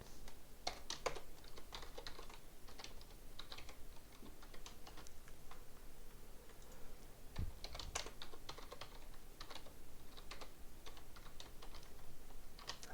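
Password being typed on a computer keyboard during a Debian 12 graphical installation, soft steady clicking of keys close by, quiet and continuous with occasional slightly louder taps.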